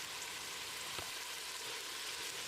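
Red chilli paste, made from twelve dried red chillies soaked in boiling water and ground, sizzles steadily as it sautés in a pan for Ambur mutton biryani, a close, continuous frying hiss with one brief stirring knock partway through and no talk.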